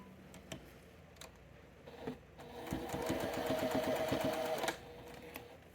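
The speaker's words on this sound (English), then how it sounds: "Sew them." Sewing machine stitching quilt puzzle blocks runs in a steady rapid mechanical patter for about two seconds, preceded and followed by quiet clicks and handling of fabric pieces.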